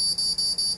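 Piezo buzzer of an Arduino door lock security system sounding its alarm after a wrong password, loud rapid repeating high-pitched beeps in short pulses, no talking.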